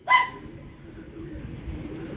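A single short pigeon call rings out near the start, then fades into a low, steady background rumble.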